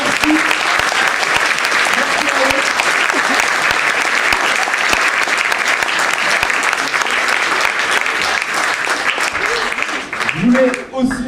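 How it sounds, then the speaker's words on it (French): Sustained audience applause rolls on at a music contest final in Saint-Étienne, a thick wash of clapping with scattered shouts and voices, loud and even, tapering near the end. "Je vous demande de les applaudir encore une dernière fois, merci."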